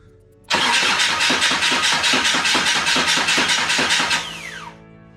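A Kubota V2403 diesel swapped into a TJ Wrangler cranks and fires in a loud, close burst of rapid rhythmic clatter lasting a few seconds, then cuts off while a descending whine fades out.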